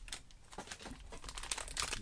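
A Kidrobot Teenage Mutant Ninja Turtles Shell Shock blind box, a cardboard package, is ripped open close up with a continuous run of loud crinkling and tearing.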